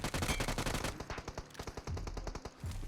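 Rapid automatic bursts from a UMP submachine gun in the mobile shooter BGMI, loud and close, with dense rattling volleys breaking into shorter strings of individual shots.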